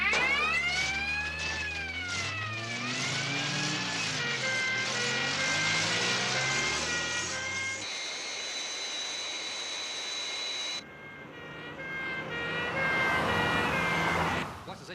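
A Fireflash jet airliner approaches the runway on its glide path, a sustained engine roar with shifting whining tones, broken midway by a steady high electronic tone, then resuming loud and continuous.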